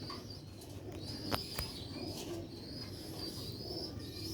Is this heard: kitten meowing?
no